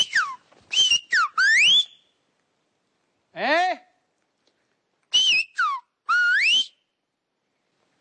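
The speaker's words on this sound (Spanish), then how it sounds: "tú me vas a enviar un SMS, pero en silbo" Silbo Gomero, the whistled language of La Gomera, carries a message in several bursts of loud, gliding whistles with clear pauses between phrases, and a brief spoken interjection is heard.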